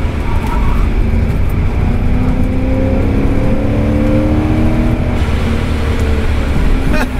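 A supercharged Porsche 928S on a race track drones loudly and steadily from inside the car, the engine tone rising gradually with the supercharger whine blended into constant road and wind roar.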